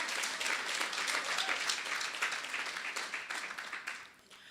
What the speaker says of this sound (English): give yourselves a round of applause this evening